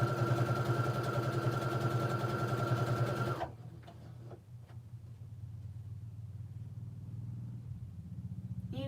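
A sewing machine runs fast while stitching fabric for a simple reversible tote bag, giving a loud, rapid, steady mechanical whir. It stops abruptly partway through, leaving quieter rustling and a low hum.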